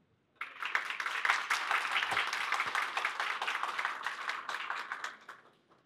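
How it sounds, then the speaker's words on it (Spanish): A university academic-week audience gives a hearty round of applause, a dense wash of many hands clapping that rises quickly, holds for several seconds, then tapers off. "Doctor Beuchot, nuestra universidad le agradece su presencia con un fuerte aplauso."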